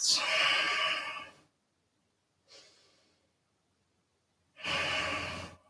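Deep breathing during a stretching routine before or after a swim: three close breaths, a long strong exhale, a fainter short breath, then another full loud breath, with no talking.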